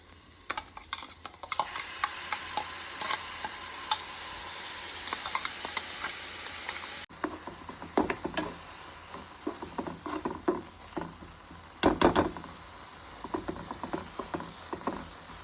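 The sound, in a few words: oil, cumin and onions frying in a pan for egg roll stuffing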